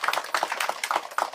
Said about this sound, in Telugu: గట్టిగా చప్పట్లతో అభినందన తెలియజేద్దాం